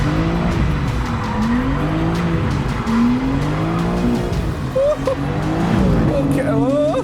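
A 2023 BMW M4 CSL slides tail-out in fourth gear, its engine drone rising and falling under steady loud tire squeal while someone talks excitedly over it.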